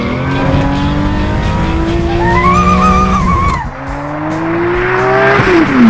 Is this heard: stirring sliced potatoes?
no